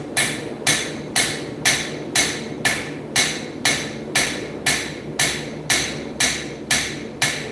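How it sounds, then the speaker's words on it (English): Metal handle forged at low heat with a hammer: a dozen evenly spaced, ringing blows land about two per second, loud and close, each strike decaying quickly before the next. "So a few hammer blows at this low heat"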